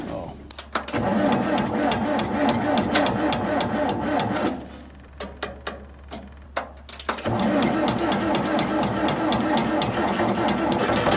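An old tractor engine runs steadily at a loud, close clatter while being moved on a farm. It drops back briefly partway through before picking up again, with some voices faintly under it.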